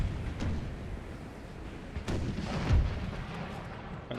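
Cannon artillery in a war strategy video game fires on an advancing cavalry unit, giving a few dull booms at different distances over a continuous rumbling battle din, with no one speaking.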